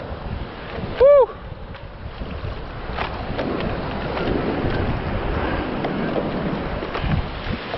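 Surf rolling in during a typhoon, a broad continuous wash of waves and wind noise with a short loud shout near the start.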